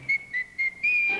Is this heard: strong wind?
no